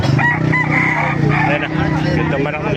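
A rooster crows loudly and close by at a gamefowl gathering in Calumpit, Bulacan, its drawn-out call running through the whole clip over other nearby fowl noise.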